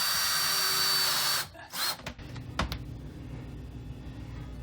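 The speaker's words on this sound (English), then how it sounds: "Drill the top hinge in" Power drill driving screws into a kitchen cabinet hinge, a sustained high motor whir that cuts off abruptly, followed by a few short bursts, clicks and handling knocks.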